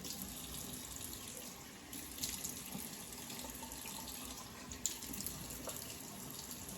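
Water runs softly from a tap while a face is dampened before shaving, a faint, steady trickle with light splashes.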